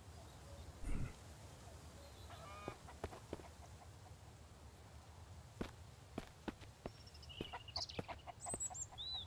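Chickens in the survival game Mist Survival cluck and squawk faintly and intermittently over soft outdoor ambience, with scattered short clicks and footstep-like taps.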